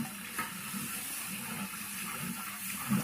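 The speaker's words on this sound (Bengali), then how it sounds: "তারপর দিয়ে দিব আমরা এখানে পানি" Water is poured into a pot of chicken biryani masala with green chillies and spices, producing a faint, continuous watery splash that stays steady throughout.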